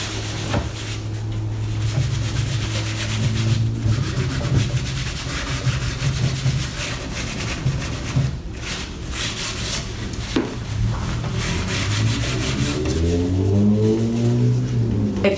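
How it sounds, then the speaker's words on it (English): A balled-up cloth sheet rubs paint off a wooden dresser being distressed, giving a steady, close scrubbing and rasping sound that runs without pause, with a low hum underneath. "And I'm going to rub it off. I'm going to take my sheet, kind of make it in a little ball like that,"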